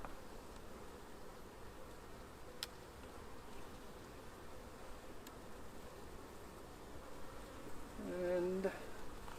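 Honeybees drone steadily around a hive in an apiary, a dense low hum that holds throughout with a slight swell near the end.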